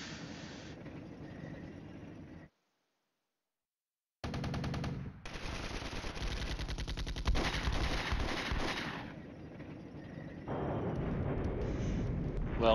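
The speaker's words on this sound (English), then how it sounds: "Let's waste some artillery on nothing." Artillery in the Flashpoint Campaigns: Red Storm wargame sounds as dense rolling bursts and rapid firing, loud and continuous after a brief silence, then a sustained rumbling barrage with no voices.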